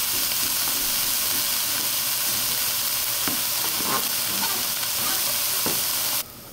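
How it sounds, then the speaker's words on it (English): Onions fry in a pot for vegan mushroom potato soup, giving a steady close sizzle and hiss with a few soft stirring knocks, before the sound drops suddenly at the end. "after you've cooked your onions for about 5 minutes, they'll look like this, a teeny bit brown"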